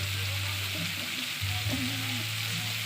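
Tofu and bitter gourd (ampalaya) sauté in a hot pan with a steady, close sizzle and occasional stirring scrapes, and no voices.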